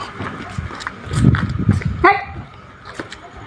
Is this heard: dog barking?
yes